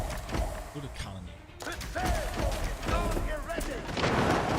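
Cannon fire in the real-time strategy game Age of Empires 4 during a large 1v1 battle: a quick series of sharp booming shots over busy battle noise, with a voice talking intermittently.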